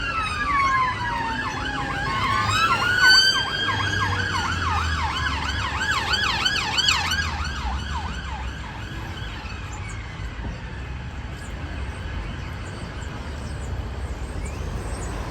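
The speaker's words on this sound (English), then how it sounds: "Police sirens are not really a big deal here." Police sirens wail along a London street near the South Bank, several overlapping rising and falling tones loud at first and then trailing off into a steady hum of traffic.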